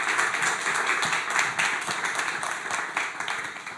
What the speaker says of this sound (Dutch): Dank en een applaus graag.